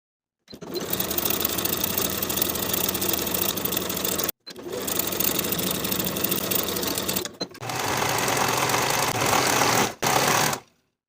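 Sewing machine stitches the crotch seam of pajama pants in three steady motor runs, close and even-paced, with brief pauses between bursts.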